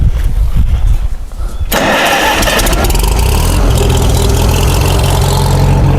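The engine of a Farmall H tractor catches after a cranking start and settles into a loud, steady, rumbling idle close by. Some noise comes before it catches.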